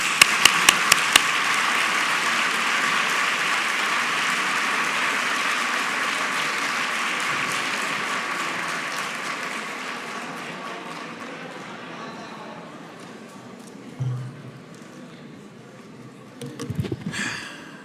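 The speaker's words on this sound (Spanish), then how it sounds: "Así que, por favor, un muy fuerte aplauso." Strong applause from a conference audience at a medical congress on stem cell therapy for type 1 diabetes, a dense sustained clapping that slowly fades over about twelve seconds before a few scattered claps and stray noises.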